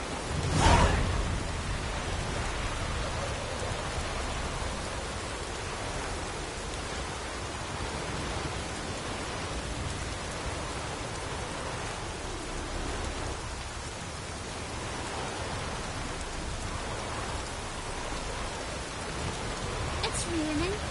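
Steady rain falls in The Witcher 3 on PS4, a continuous dense hiss without letup, with a brief louder burst near the start; no talk is heard.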